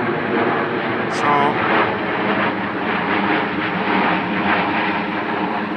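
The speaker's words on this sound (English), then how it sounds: "if you can hear me over the jet aircraft" A jet aircraft flying overhead gives a loud, continuous roar that swells slightly and holds steady, with a voice faintly present beneath it.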